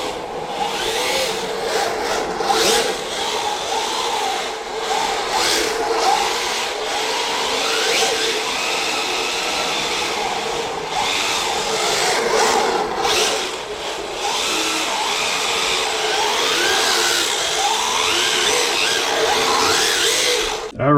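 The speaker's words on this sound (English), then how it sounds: "we're gonna fire up my other drift car that has that, the XR10, stock spec SR10 in it" An RC drift car fitted with a Hobbywing XR10 stock spec ESC runs continuously, its electric motor whining and rising and falling in pitch over a steady hiss of tires and mechanism throughout.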